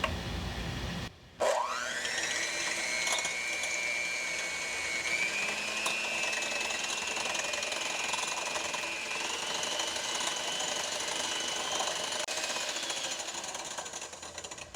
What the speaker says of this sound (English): Now we're going to work on puffing up our egg whites.